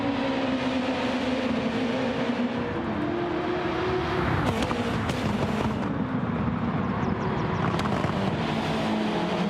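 Racing cars in a sim racing league game, engines droning steadily as the cars brake and jostle for position side by side, a continuous dense roar with brief sharper transients midway.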